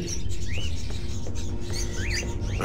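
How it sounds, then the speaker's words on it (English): Caged birds in a room in the video game Fahrenheit: Indigo Prophecy, giving a few short rising and wavering calls over a constant low ambient hum, with no talking. "Are those crows in the cages?"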